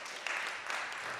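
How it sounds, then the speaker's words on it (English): A crowd applauding steadily, a dense wash of clapping that holds at an even level throughout, with no voices above it. "Big applause for him also."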